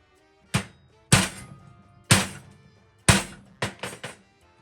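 A pipe end cap striking a welded-up Skoda Felicia rear truck bed coated in bed liner gives five hard, dull thunks at roughly one-second intervals, then two lighter knocks, loud and close with silence between.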